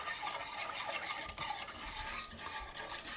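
Whisk beating sugar in a bowl for lemon curd, rapid close scraping and rattling strokes in a steady rhythm with no talk.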